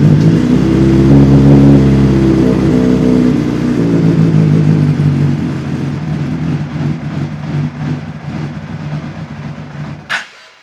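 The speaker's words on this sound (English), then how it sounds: "Start the bike." A sportsbike with a serious fault, its fuel line disconnected, cranks and starts with a loud close engine roar, then settles into a rough, uneven idle that fades before a sharp final noise.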